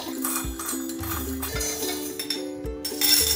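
Dry spices, black pepper and cardamom among them, tip into a mixer grinder jar for thandai masala powder, with several light clinks and rattles against the jar in quick irregular succession, close by.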